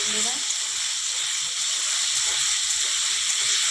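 Cut ridge gourd and potato fry in hot oil in a wok, giving a loud, steady sizzling hiss throughout the short stretch, with a faint voice briefly underneath.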